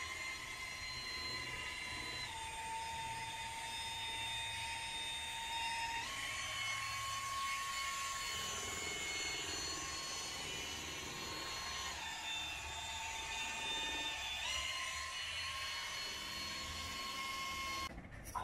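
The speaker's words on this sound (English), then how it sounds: "Hold the drill for me." A handheld power drill mixes two-part epoxy floor paint for a decorative fleck concrete floor, giving a steady, continuous motor whine that shifts pitch a few times as the speed changes, holding fairly loud and alone throughout.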